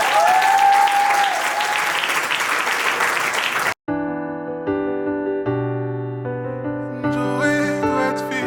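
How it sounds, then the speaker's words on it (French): Loud, dense applause from a wedding crowd cheering the newlywed couple fills the first few seconds, then stops abruptly as music begins. "Mesdames et messieurs, je vous demande d'acclamer très fort encore."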